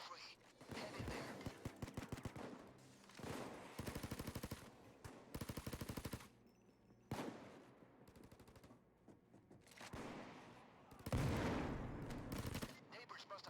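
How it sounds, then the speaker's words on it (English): Rapid bursts of automatic gunfire crackle loudly in repeated volleys in Payday 2, separated by short pauses, with rumbling game sound effects filling the gaps. "Neighbors must have heard gunshots."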